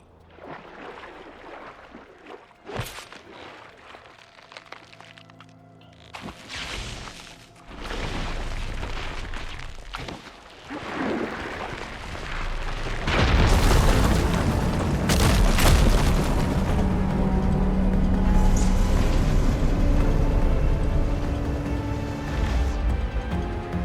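In Horizon Forbidden West, a fire gleam ignites and blasts apart rubble: a few sharp bangs, then a heavy booming explosion that swells into a long, loud rumbling roar with debris crashing.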